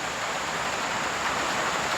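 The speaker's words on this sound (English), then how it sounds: "it's appropriate that it's raining" Steady rain falling in a tropical rainforest, a dense even hiss of drops on leaves and surfaces that holds constant throughout with no voices.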